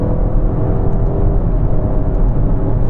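A Citroen C5 X car accelerates hard through its gears using paddle shifters, a steady loud engine whir and road rumble filling the whole stretch without pause, close and continuous.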